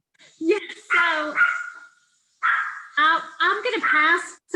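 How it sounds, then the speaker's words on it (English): A dog barks repeatedly in bursts, loud and close, with yips and whimpering tones between the barks, in a home during an online video call. "my dog is barking"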